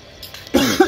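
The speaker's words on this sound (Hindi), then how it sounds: "क्या हो गया, बड़ी खांसी है" A man coughs twice, close and loud, harsh bursts after a short quiet stretch of faint background.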